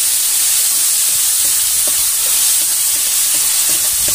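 Tomatoes fry in a hot pan for scrambled eggs, producing a loud, continuous close sizzle and hiss with faint stirring scrapes, no voices.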